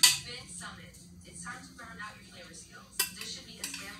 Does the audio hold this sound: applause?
no